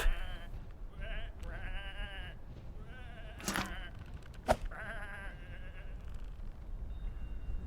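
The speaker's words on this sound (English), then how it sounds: "Come on, these are just sheep." Sheep bleat repeatedly in short wavering calls over a low background hum, with a couple of sharp clicks between them, in the video game Whateverland.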